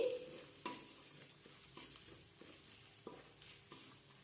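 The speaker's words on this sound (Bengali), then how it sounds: "ঝালের জন্য সামান্য লঙ্কার গুঁড়ো আদা আর রসুনের কাঁচা গন্ধটা চলে যাওয়া পর্যন্ত হালকা আমি একটু ভেজে নিচ্ছি" Chili powder, ginger and garlic fry softly in a pan, a faint low sizzle broken by quiet scraping stir strokes at an even pace.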